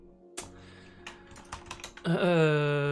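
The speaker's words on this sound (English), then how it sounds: "I know I'm typing my password with keyboard cam" Several sharp key taps on a computer keyboard as a password is entered in a Linux virtual machine, spaced irregularly over a quiet room tone, then cut off by a loud sustained tonal sound.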